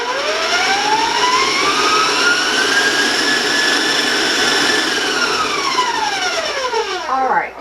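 Electric mixer creaming oatmeal snowball cookie dough, a loud continuous high whine whose pitch glides up and back down, then wobbles near the end, with no talking.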